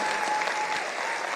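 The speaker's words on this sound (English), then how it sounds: "can we stand up and give His Excellency a round of a hearty, warm clap?" Applause from a seated audience at a presidential town hall in Kisumu, a steady dense clapping wash filling the whole moment with no talk over it.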